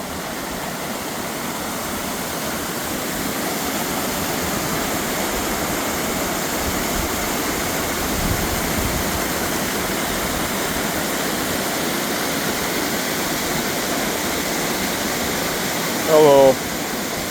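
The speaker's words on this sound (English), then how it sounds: "And this is the waterfall here I wanted to see." A waterfall at Klepzig mill pours in a steady, dense roar, loud and unbroken throughout, with a brief sharper knock near the end.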